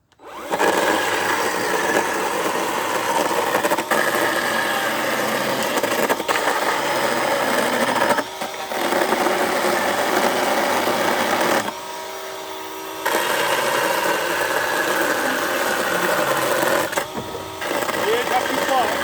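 Parkside chainsaw cutting through Euro pallet wood for firewood, a loud, steady high-pitched engine buzz running almost continuously with a few brief dips as the cut eases.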